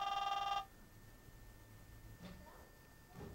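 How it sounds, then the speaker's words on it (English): A telephone rings with a rapid electronic trill for about half a second and then stops, followed by faint indoor shuffling and small knocks, with no talking. "The dang phone."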